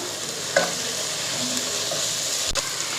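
Coriander leaves sizzle steadily in hot oil while a spoon scrapes and stirs the pan now and then, close and continuous.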